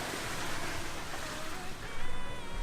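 A sailboat under way with its headsail set, the hull swishing steadily through waves as wind rushes past, heard as a continuous close wash of water and wind noise.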